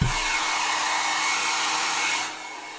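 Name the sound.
hair dryer blowing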